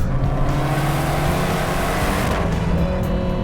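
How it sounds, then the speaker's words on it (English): A Fiat 500 Abarth's exhaust drones and pulls steadily as it accelerates, a loud continuous buzzy roar heard from inside or near the car. "Sound, the exhaust, it sounds amazing."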